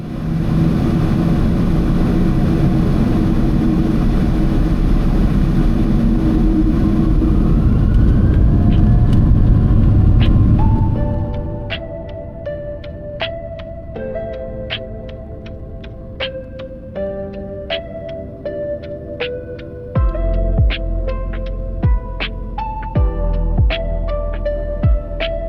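An airliner's engines roar loud and steady during the takeoff run after taxiing, then drop away to a quieter cabin hum with scattered clicks and knocks.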